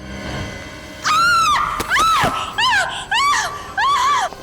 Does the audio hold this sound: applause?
no